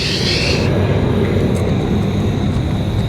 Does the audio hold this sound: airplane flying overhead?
yes